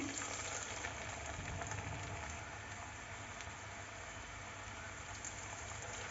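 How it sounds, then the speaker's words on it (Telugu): Jantikalu murukku dough frying in hot oil, a steady, dense sizzle that holds at an even level throughout with no voices over it. "ఇలా తీసుకొని ఒక్కొక్కటిగా ఆయిల్లో వేసుకోవాలి ఇప్పుడు ఇందులోకి వేసేస్తున్నాను"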